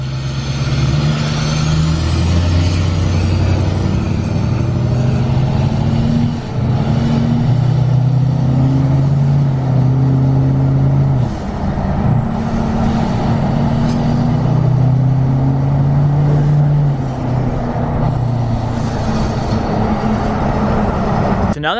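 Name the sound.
truck engine running with stock intake horn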